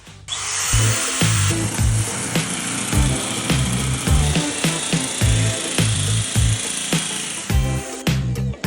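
An electric power tool buzzes in repeated bursts as it cuts through bracket material for a subwoofer enclosure, close and loud, the motor pulsing on and off with short gaps and a rough cutting rasp, no talk.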